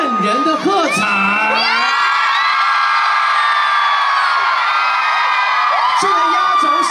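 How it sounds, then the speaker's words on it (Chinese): A huge concert crowd at an outdoor Christmas-season show in New Taipei cheers, whoops and screams continuously, loud and sustained, with shrill voices rising and falling throughout. "请接受我们万人的喝彩。"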